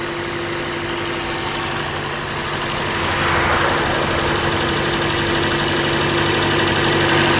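A repaired Toyota Corolla engine with a fixed crank-no-start fault idling steadily nearby, a smooth continuous hum that swells slightly louder midway.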